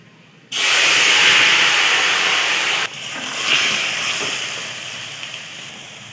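Leafy greens hit hot oil seasoned with dried red chillies, bay leaf and five-spice, setting off a sudden loud, close sizzle that bursts in at once, eases slightly, surges again briefly and then settles into a softer steady hiss with no talk.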